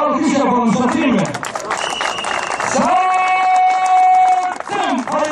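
A crowd at an oil wrestling auction bursts into loud applause and cheering, mixed with whoops and voices, close and dense for a few seconds.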